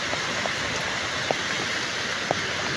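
Heavy rain falls on a rooftop as steady, dense hiss with a few sharper drop hits, close and loud, no talking.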